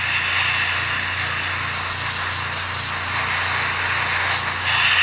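Hairspray hisses steadily and loudly onto a scale model King Tiger tank in a continuous close-up spray, over a faint low hum.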